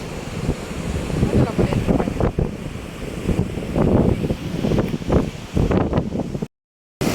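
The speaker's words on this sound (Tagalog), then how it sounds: "Lamig ng hangin" Cold wind buffets the microphone at a seashore while ocean waves surge in irregular loud gusts, with a brief dropout near the end.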